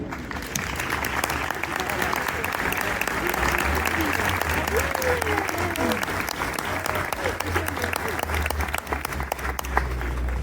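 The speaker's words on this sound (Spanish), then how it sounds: "Marina Carvajosa, un aplauso para ella." Sustained audience applause at a fashion show for a traditional Asturian costume day in Grado, a full dense clapping that runs steadily for about ten seconds with faint voices mixed in.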